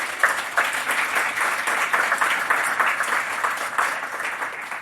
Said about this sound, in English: Audience, would you give our debaters a round of applause?